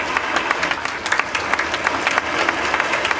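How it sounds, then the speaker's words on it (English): Lively applause from a crowd at an outdoor solar carport launch, brisk clapping that continues steadily at close range, with a few voices mixed in. "Can we clap?"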